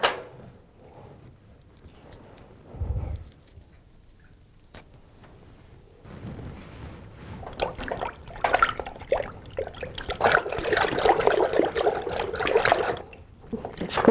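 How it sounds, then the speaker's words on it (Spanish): Water poured out of a container while mixing azulete bluing pigment, a faint trickle that builds into a louder, splashy pour and then tapers off, with little else around it. "Ahora saco el agua para poner la azulete aquí."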